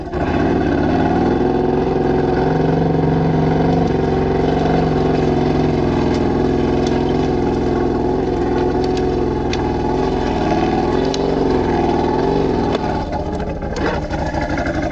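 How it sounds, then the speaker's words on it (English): An off-road vehicle engine drones loudly and steadily in low gear with all-wheel drive engaged while crawling through a fallen-timber forest, the pitch rising and falling slightly as it works, with brief knocks near the end. "Let's go in low gear and engage all-wheel drive."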